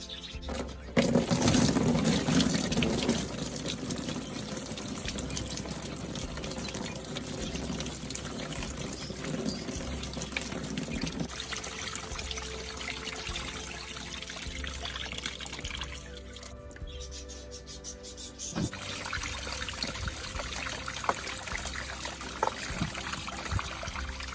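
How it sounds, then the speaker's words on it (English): Water running into a container in a shaded garden under a tree, a continuous trickling pour that stays steady at moderate level and shifts in tone partway through, with no talking over it. "All I need to do now is to fill it up with safe water."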